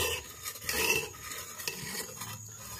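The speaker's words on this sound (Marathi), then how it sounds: "असे फिरून घ्यायचे आणि दाबून घ्यायचे" A spoon stirs and presses boiled mung beans in a kadhai, giving soft scraping and rubbing strokes in an irregular rhythm, quiet and close, with no voices.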